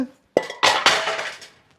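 Metal cooking cauldrons (qozon) of 6, 10 and 16 litres set down on a tall universal stove, giving a few sharp clanks and clinks close by, with a ringing metallic tail after each knock.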